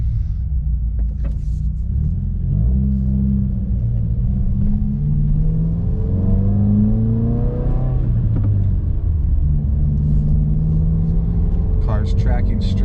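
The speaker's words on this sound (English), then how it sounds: "Car's tracking straight, not pulling one side or the other. Again, this road is really rough, and it just feels super comfortable." A 2020 Subaru WRX on Fortune Auto coilover suspension drives along a very rough road, its low engine and road rumble droning steadily throughout with a few shifts in pitch, while a person talks over it from inside the cabin.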